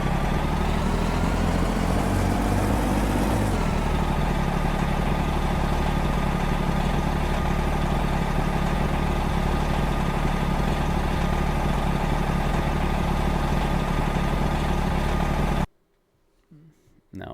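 A truck engine in American Truck Simulator rumbles steadily and shifts tone after a few seconds as it is throttled, then runs evenly for a long stretch before cutting off abruptly near the end.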